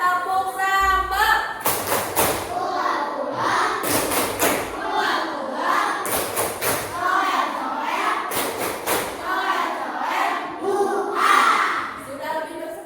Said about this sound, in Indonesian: Satu, dua, tiga, tepuk sambal.